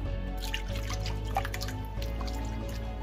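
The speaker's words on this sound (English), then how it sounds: "Add a splash of vinegar" Vinegar splashes as it is poured into a pot of water while cooking, a soft liquid trickle and drip running continuously over a steady low hum in the kitchen.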